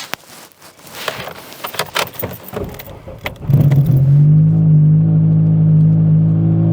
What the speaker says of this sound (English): Cold start. Yeah, that's a proper proper cold start.